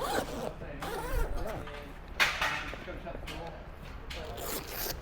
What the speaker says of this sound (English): Couple of zips.